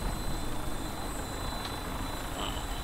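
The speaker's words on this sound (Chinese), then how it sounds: "那我们就是要坐飞机过去。" An aircraft flies in the Fallout 4 video game, giving a steady, fairly loud engine and rotor roar that drones without a break throughout.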